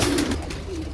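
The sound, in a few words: young breeding pigeons cooing in the loft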